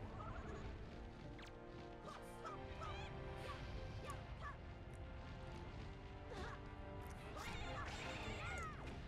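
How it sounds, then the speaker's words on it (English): Large bird creature squawking in Wind Waker HD, inside Dragon Roost Cavern: repeated shrill, wavering calls over a busy background of game music and effects. "What is making that noise? Oh, it's a bird."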